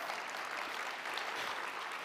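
A short burst of steady crowd applause, many hands clapping evenly at moderate distance.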